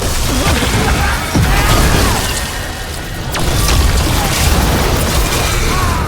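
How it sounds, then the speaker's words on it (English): Mortar blasts rumble through a battle in Dragon Age: The Veilguard, heavy booms and crashing impacts layered into a dense, loud, continuous din of combat. "They've got mortars."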